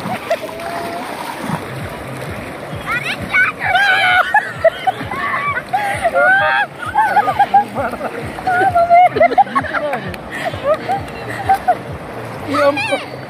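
At a hill stream picnic spot, water splashes and sloshes repeatedly as people throw it at one another, with excited voices and laughter close by throughout.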